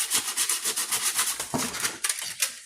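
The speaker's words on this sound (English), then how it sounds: "Just sand it down through the hole." A chrome front grille on a Lincoln Town Car is sanded by hand, with quick rhythmic scratchy back-and-forth strokes, close and fairly loud, pausing briefly before resuming.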